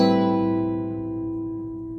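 A single guitar chord voicing with a ninth added on top rings out clearly and sustains, fading slowly over two seconds with no talk.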